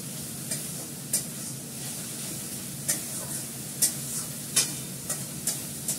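A kadai of hot oil keeps up a constant sizzling hiss while a spatula stirs, giving intermittent scrapes and clinks at irregular intervals, close and moderately loud.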